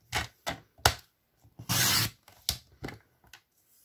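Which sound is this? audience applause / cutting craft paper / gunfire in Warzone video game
cutting craft paper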